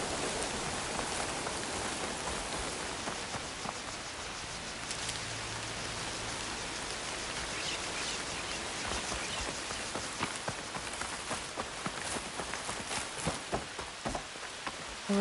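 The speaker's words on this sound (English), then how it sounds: "escaping this rain" Rain falls steadily in the video game Horizon Forbidden West, a soft hiss of drops pattering on surfaces. It stays quiet and even throughout, with faint rustling underneath.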